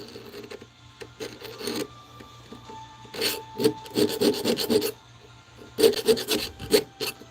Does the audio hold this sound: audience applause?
no